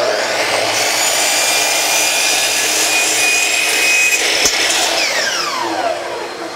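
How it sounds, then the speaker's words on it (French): A large saw cuts through a wooden baseboard continuously, a loud, steady rasping grind that holds for several seconds and then tapers off slightly near the end. "ça prend une grosse scie pour pouvoir faire une coupe comme ça"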